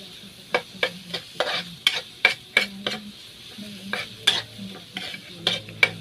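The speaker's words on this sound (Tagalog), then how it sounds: "Pagkatapos na kugisa sa cabbage." Cabbage sautéing in a pan with a little salt, a series of sharp spatula scrapes and stirs over a steady low sizzle, close and fairly quiet with no talk.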